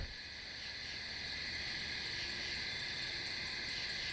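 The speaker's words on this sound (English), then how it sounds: "I'm hearing crickets, I'm hearing katydids, I'm hearing cicadas, every tree." Crickets, katydids and cicadas fill the Adirondack woods at night with a dense, continuous high buzzing chorus that holds steady and loud the whole time, with no voices.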